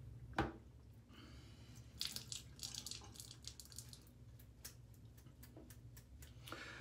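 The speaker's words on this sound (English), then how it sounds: "So let me squeeze out the water in the brush and we'll get lathered up" Water squeezed from a wet shaving brush gives soft dripping, splashing and squishing sounds, with a sharp tap near the start and scattered small drips and clicks that continue faintly throughout.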